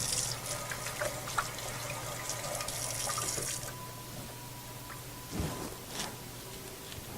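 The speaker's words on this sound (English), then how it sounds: "take this to the sink, of course. Wash it later. Let me wash my hands." Tap water running into a kitchen sink for hand washing, a steady close hiss and splash that thins out partway through, followed by dripping, splashing and faint handling sounds.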